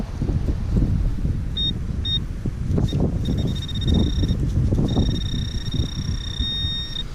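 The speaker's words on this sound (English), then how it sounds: "The wind is blowing." Wind blows outdoors at a metal-detecting site, a loud, steady rumbling buffet across the whole stretch, with faint electronic tones from a detector rising and falling over it.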